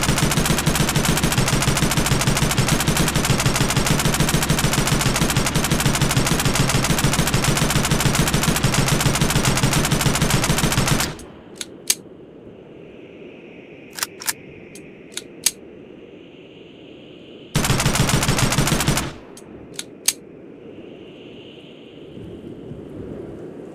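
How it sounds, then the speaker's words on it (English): An M249 SAW machine gun fires in the video game Gorebox, a loud continuous automatic burst lasting about eleven seconds, then a few isolated clicks and a second shorter burst of rapid fire amid quiet pauses. "M249 Squad Automatic Weapon,"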